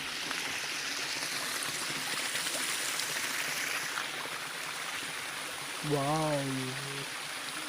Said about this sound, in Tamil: கொஞ்சம் சின்ன ஒரு ஃபால்ஸ் மாதிரி ஒரு இடம்.